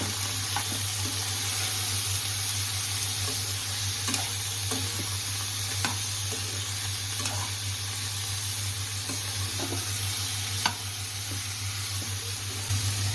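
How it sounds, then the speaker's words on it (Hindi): Broccoli frying in a pan for a noodle dish, a steady loud sizzle with occasional light scrapes and clicks of stirring throughout, no talking. "इसे हम फ्राई कर लेते हैं"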